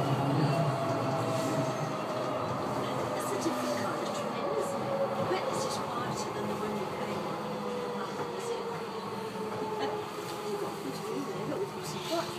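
A Docklands Light Railway train running between Stratford International and Canning Town, heard from on board as a steady rolling rumble with faint wheel squeal and rail noise, while a voice speaks over it.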